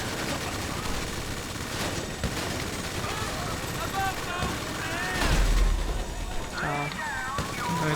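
Gunfire in the video game GTA 5, with shots cracking steadily across the scene amid broadband game noise while someone talks over it throughout.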